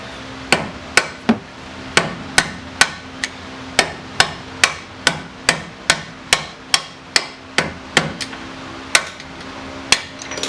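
Steady hammer blows drive a bolt out of a front strut on a 2003 Saab 9-3 Linear, struck through a screwdriver used as a punch; about twenty sharp metallic strikes in an even rhythm, loud and close, no talking.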